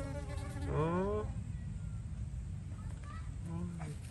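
Honeybee buzzing close around a hand, a steady low drone beneath intermittent voices speaking nearby.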